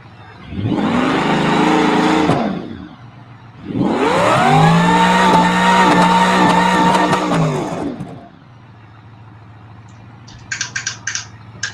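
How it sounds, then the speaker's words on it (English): A rock crawler buggy engine revs hard twice, first a short burst and then a longer sustained howl that climbs and holds before cutting off, loud and close, followed by faint clicking. "This particular car is like really loud too."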